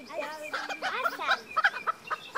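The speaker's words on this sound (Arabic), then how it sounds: "دجاج قطني." Small silkie (cotton) chickens and a rooster on a farm give a busy run of close clucks and squawky calls, with people talking nearby.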